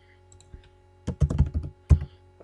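Someone types a short word on a computer keyboard, a quick cluster of close, crisp key clicks followed by a single firmer tap.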